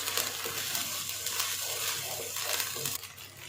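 Onions for keema palak sizzle steadily in a hot pan as they brown, a continuous bright hiss with faint stirring scrapes and a low hum, dropping slightly at the end.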